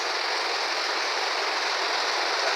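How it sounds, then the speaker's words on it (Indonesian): Heavy evening rain pours down outdoors as a loud, steady, dense hiss that fills the whole moment without a break. "Nah, gede banget hujannya nih."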